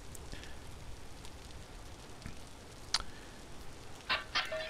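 Rain falling in the video game Vintage Story, a faint continuous hiss of rainfall with a few sharper drip-like spatters near the end, no talk.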